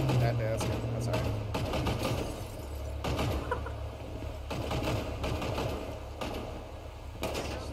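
Automatic gunfire echoes through a Humane Labs raid in GTA V roleplay. Repeated rattling bursts sound fairly close and steady, over a low background hum.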